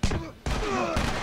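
Two sharp gunshots from The Last of Us, one at the very start and another midway, each with a ringing tail, loud and close with some game ambience between them.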